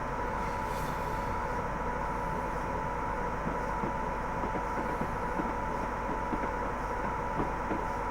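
A train rumbles steadily in Train Simulator 2021 on the Carlisle to Edinburgh via Glasgow route, approaching Carstairs with carriages. The hum and rolling noise stay constant and fairly loud throughout, with no talk.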